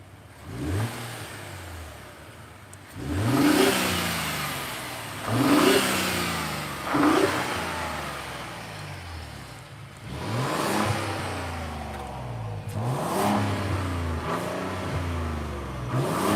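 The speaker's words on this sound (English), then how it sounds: "Someone asked if they want to rev the engine. Okay, yeah. I'll rev it up." A 2021 Lincoln Navigator Black Label engine is revved repeatedly, several loud rising bursts that fall back toward idle, close by and without talking.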